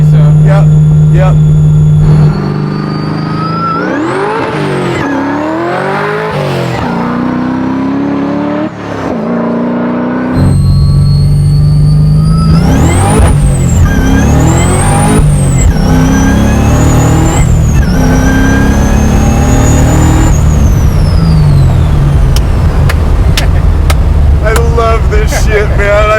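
A 1,000 hp supercharged 427 Chevy Chevelle SS restomod revs hard while driving, loud engine rising and falling through repeated pulls with a steady drone, a brief lull and supercharger whine.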